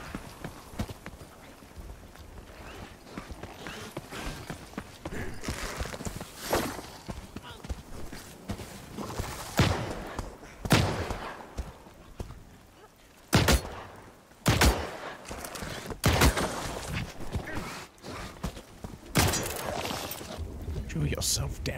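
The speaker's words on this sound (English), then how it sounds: "Gunshots." Gunfire in the online shooter game The Cycle: Frontier, several sharp loud bursts and single shots scattered over a steady background of movement and footsteps, with a voice talking throughout.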